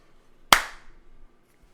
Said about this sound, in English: I guess we got to give a quiet clap.